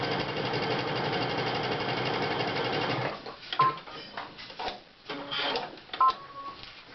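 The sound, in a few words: sewing machine sewing applique with short zigzag stitch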